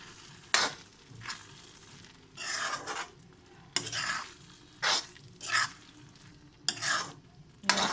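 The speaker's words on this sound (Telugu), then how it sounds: "కలిపేసుకుందామండి ఒకసారి" Egg curry masala with garam masala being stirred in a frying pan, repeated scraping strokes of a spoon against the pan over a low sizzle, close and fairly quiet.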